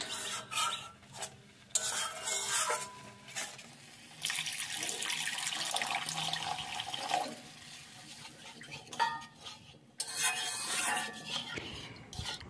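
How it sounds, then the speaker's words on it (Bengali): Water poured into a pan of frying spice paste for a prawn curry, giving a steady running, splashing pour with bubbling and stirring that rises and falls in bursts over several seconds. "এবার এতে দিয়ে দেবো পরিমাণ মতো জল"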